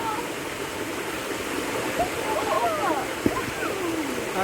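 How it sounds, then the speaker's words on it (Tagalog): Fresh waterfall at Lake Bato in Pakil, Laguna: a constant broadband rush of falling water with faint splashes, while people talk over it in the background. "We have the fresh waterfalls here."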